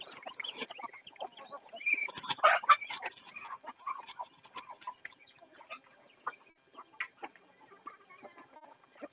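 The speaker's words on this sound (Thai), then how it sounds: "ไก่ไข่ก็กินแบบดีมากๆเลยส" Laying hens cluck and chatter in a flock while pecking at rice bran feed, a steady patter of soft, close clucks with a busier burst of calls early on.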